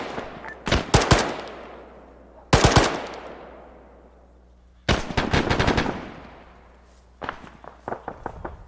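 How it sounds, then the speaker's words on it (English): Covering gunfire in a military combat game set in Chernarus: short loud bursts of automatic fire with ringing echoes trailing off, then a longer rattling burst and scattered quicker shots at the end. "Covering fire."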